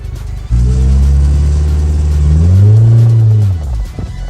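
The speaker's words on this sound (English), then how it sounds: "Now I'm driving the MR2, and this is gonna be fun." A 1992 Toyota MR2 pulls away with its engine note rising steadily through the revs, loud and close, then easing off near the end; no talk is heard.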